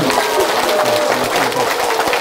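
Audience applause at a Korean Buddhist lecture event during a flower bouquet presentation, loud, dense clapping from a crowd, sustained evenly without pause.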